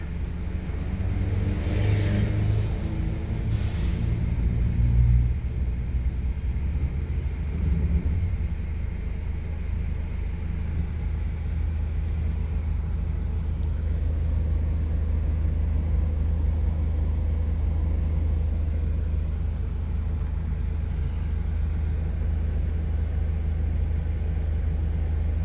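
Congested road traffic on Kamias Road in Quezon City, Manila, with a continuous low engine rumble and idling vehicles close by, plus occasional faint revving, and no talking.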